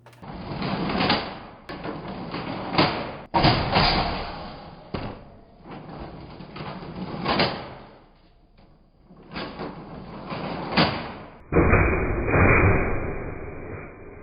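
A Nerf Mega foam dart blaster fires dart after dart at close range. Each shot is a sharp pneumatic whoosh and clack, with mechanical priming noises between shots in an uneven rhythm.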